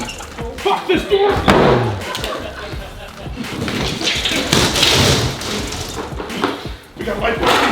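A door is smashed and slammed during a one-minute demolition, with loud repeated thuds, bangs and crashing debris mixed with shouting voices close by.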